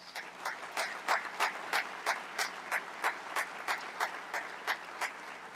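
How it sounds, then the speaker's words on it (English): Applause for honorees at an awards ceremony, heard as a fairly small group clapping in a slow, steady, almost unified rhythm, moderately loud and without talk. "Let's give all of our honorees another round of applause."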